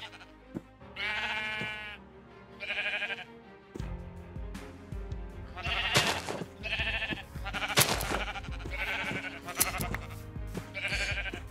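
Sheep in the Minecraft video game bleat repeatedly, a run of nasal, wavering calls spaced a second or two apart over soft clicks and game noise, with no talking.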